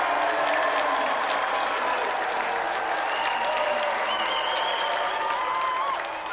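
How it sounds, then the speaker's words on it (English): Studio audience applauding game show contestants, a Nintendo champion among them, on a 1993 UK video games TV show: steady dense clapping, close and loud, with no talk over it, easing off only at the very end. "Applause for Scott Naylor and Nintendo champion Thomas Patterson."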